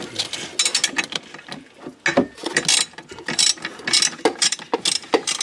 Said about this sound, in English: Underneath down there is a 10 millimeter. Just got to loosen that up.